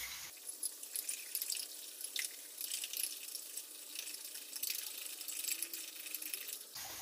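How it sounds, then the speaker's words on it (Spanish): Four eggs with a pinch of salt beaten with a fork in a bowl, a steady stream of quick, light clinking taps that runs close and unbroken for several seconds. "Y voy a batir con un tenedor."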